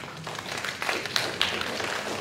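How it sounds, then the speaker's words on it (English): Audience applause at an introductory speech, a dense, steady wash of many hands clapping that stays fairly loud throughout, with no voices over it. "please give yourself a round of applause"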